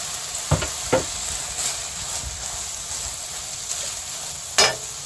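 Ginger and celery sizzle in a pan as vegetables are stir-fried, a steady close hiss broken by a few sharp scraping stirs.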